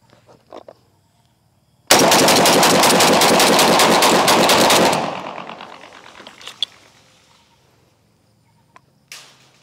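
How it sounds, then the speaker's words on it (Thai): A Derya MK12 shotgun loaded with magnum shells fires in a rapid burst of loud, close shots lasting about three seconds, then the report decays, with a few faint sounds before and after. "การทดสอบยิงแม็กดัมด้วยเดย่า MK12 นะครับ ใส่กับโรนิน M10 นะครับ"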